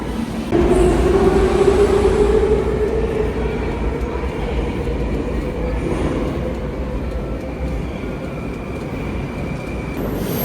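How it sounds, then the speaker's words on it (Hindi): A Baku metro train rumbles loudly and steadily past at close range, with a rising whine and rushing roar that stays constant for about ten seconds, no voices. "ओके ये ट्रेन है, ठीक है।"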